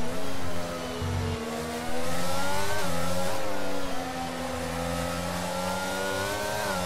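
Race car engines in a racing video game rev loudly and continuously, with pitch climbing and dropping through gear changes, dense and close throughout.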